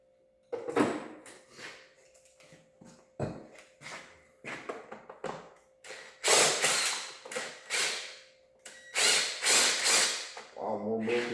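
Plastic side panels prised off a Cobra 50 dirt bike during a teardown: a close run of creaks, clicks and sharp snapping pops, irregular and loud, with a brief voice at the end.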